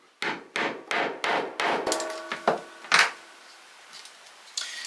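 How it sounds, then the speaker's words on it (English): A mallet strikes a hand rivet-setting tool sharply while fitting a double cap rivet, five even blows followed by a few lighter taps and one harder hit, close and clear. "We'll take our mallet and we'll hammer that through."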